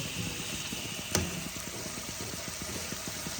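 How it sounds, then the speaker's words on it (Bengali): Lukewarm water pours into spices fried down in a pan for chanar dalna, a soft continuous hiss and gentle sizzle with one brief splash near the start. "এর মধ্যে আমি দেখো ঈষদুষ্ণ হালকা গরম জল দিলাম।"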